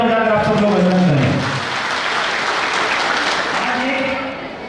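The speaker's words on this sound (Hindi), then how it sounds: "एक बार दादा के चरणों में जोरदार तालियां बजाकर आप सब लोग अभिनंदन करें।" A large audience at a temple consecration festival for Shree Kheteshwar Ji Maharaj in Kadapa breaks into loud, sustained applause, with a voice carrying over the clapping at the start and again near the end.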